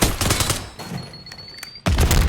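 Rapid gunfire in a video game shooter match, loud automatic bursts that break off into a brief lull with a thin high whine before another heavy burst resumes.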